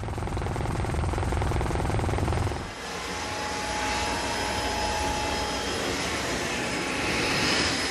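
A helicopter at an offshore wind-farm construction site off Cuxhaven drones steadily and loudly with a dense rotor and turbine roar that shifts slightly partway through, with no speech.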